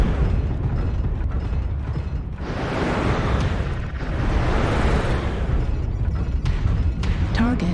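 A destroyed target explodes in the mech combat game MechWarrior Online, heard as loud booming blasts and rumbling over a dense mechanical din, with sharp pops near the end.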